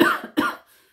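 Two quick, close coughs in succession, followed by a faint breath and silence.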